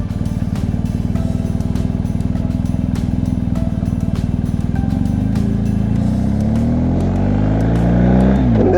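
A BMW R1250 GSA motorcycle on Dunlop Trailmax Mission tires under moderate braking on a chilly day, with a loud steady engine drone and road rumble that shifts pitch downward as the bike slows.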